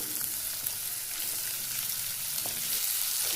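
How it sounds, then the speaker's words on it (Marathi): Onions sauté in a hot pan for a homemade paratha filling, giving a steady, even sizzle and crackle heard up close with no talking. "कांदे परतून घेऊया"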